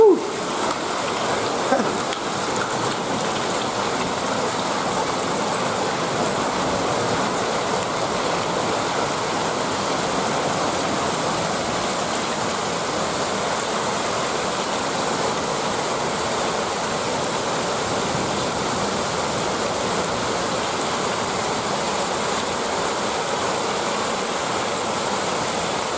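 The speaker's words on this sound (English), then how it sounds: "That is a storm." A heavy thunderstorm downpour roars as a loud, unbroken wash of rain noise for the whole stretch, steady and close, with no distinct thunderclaps standing out.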